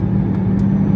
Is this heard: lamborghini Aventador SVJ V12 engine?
yes